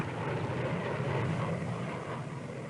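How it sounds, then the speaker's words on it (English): Steady droning roar of bomber aircraft over the Vietnam War battle of Hue, a continuous broad engine rumble that holds at even loudness throughout. "Bombers and artillery support were called in to hit NVA strongpoints."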